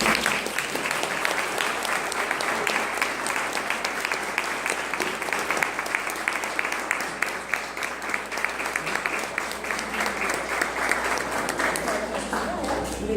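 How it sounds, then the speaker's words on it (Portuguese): A church congregation claps during a service, a sustained, loud, even round of applause lasting over twelve seconds with voices faintly underneath, tapering slightly at the end. "As palmas para você."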